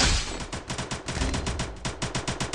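Rapid automatic gunfire in a shooter video game, a dense run of sharp repeated bursts that continues without a break for the whole stretch, loud and alone with no talk over it.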